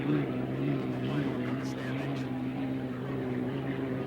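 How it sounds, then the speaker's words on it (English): The Miss Budweiser unlimited hydroplane racing boat, driven by Dean Chenoweth at the 1982 Thunder on the Ohio in Evansville, passes as a steady droning engine roar with a wash of spray noise, moderately distant, under a commentator's voice. "Here comes our 2nd place boat, Budweiser, with Dean Chenoweth, and he'll qualify for the championship heat."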